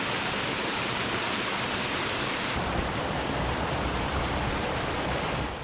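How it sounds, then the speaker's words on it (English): Bridal Veil Falls, a roughly 60-foot waterfall in Spearfish Canyon, rushes down a cliff into Spearfish Creek with a steady, broadband roar of falling water, constant and unbroken from start to finish. "Bridal Veil Falls rushes down the face of this high cliff into Spearfish Creek below"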